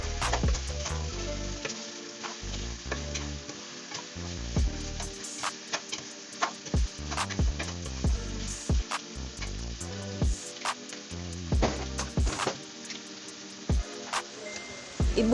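Garlic, onion and previously boiled chicken frying in a pan, a strong continuous sizzle with frequent scraping stirs and sharp utensil clicks throughout.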